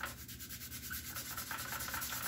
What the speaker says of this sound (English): So yeah, we'll just sand this up, make it nice and scuffed again for that last layer of paint.